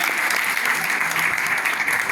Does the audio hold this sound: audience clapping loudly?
yes